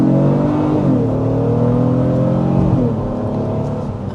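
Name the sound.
2026 Honda Pilot Elite V6 engine accelerating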